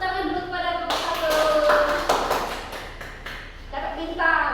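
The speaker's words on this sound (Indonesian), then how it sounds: "Beri tepuk tangan dulu kepada kelompok satu." A classroom of pupils clapping for a group of classmates, a short burst of scattered applause from a small crowd that fades after a couple of seconds, with talking before and after.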